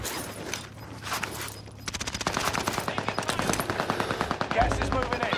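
Sustained automatic gunfire in a battle royale video game, a brief lull then a long rapid string of close, loud shots that continues to the end.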